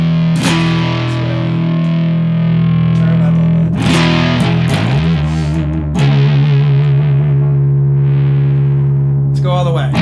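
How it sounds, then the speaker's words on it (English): Electric guitar through an EarthQuaker Devices Westwood overdrive pedal, heavily distorted sustained chords ringing out loudly with a few sharp new strums and changes. "Seems like it's a nice distortion pedal."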